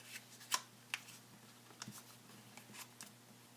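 Origami paper being folded, sparse crisp crinkles and sharp paper snaps over a faint steady hum, no voices.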